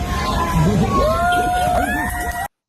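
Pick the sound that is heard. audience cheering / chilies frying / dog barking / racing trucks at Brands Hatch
audience cheering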